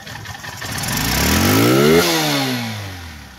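A stock motorcycle engine revved hard up close, its pitch climbing steadily to a loud peak before the throttle is released and the note falls away.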